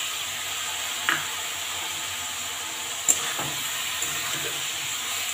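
Prawns added to banana flower sizzling in a pan, a soft, steady hiss of frying with a few scraping stirs and light knocks of a utensil against the pan, no talking.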